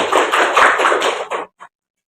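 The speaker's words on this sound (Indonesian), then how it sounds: "Kita beri aplaus." Brief burst of audience applause after a group presentation in a classroom or training session, dense clapping lasting over a second, then a few last claps trailing off into silence.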